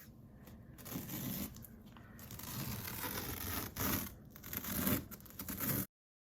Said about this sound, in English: I'm going to grab my X-Acto knife and I can slice into it